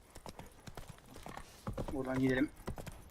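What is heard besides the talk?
horse hooves galloping in video game The Witcher 3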